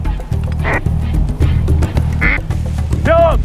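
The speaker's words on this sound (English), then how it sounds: "Oh, got a few ducks coming." Ducks quack during a Canada waterfowl hunt, several loud nasal calls in short bursts, one rising at the end, over steady low outdoor rumble with no talk.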